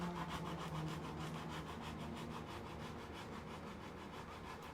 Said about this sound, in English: Shape the helmet, sand it down.